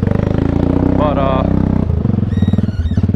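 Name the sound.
new four-wheeler ATV engine driving through deep water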